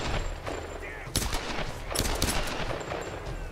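A rifle in Tomb Raider (2013) fires several sharp, close shots in quick succession, with bursts of gunfire cracking over quieter background noise.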